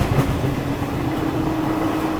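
The Poorva SF Express rolls through Ghaziabad Junction at a decent speed, a steady loud rumble of rail travel heard from on board with a continuous low hum and faint rattling, no speech.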